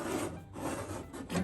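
A scribe scratching a trim line along a Jeep 392's inner fender, several short rasping strokes in quick succession, close and fairly quiet.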